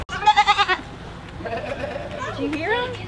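A goat lets out a close, quavering bleat on a bass boat on Lake Martin, and then people talk and laugh nearby.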